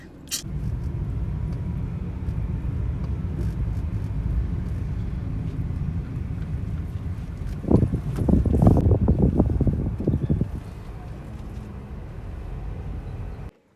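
Car driving along a road to a film set, a steady low rumble of engine and road noise with wind buffeting, swelling louder for a few seconds midway before settling back to an even drone.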